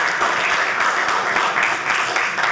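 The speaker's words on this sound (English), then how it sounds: "big round of applause" Dense applause from a large audience at a stand-up comedy show, loud and steady throughout, with many hands clapping at once.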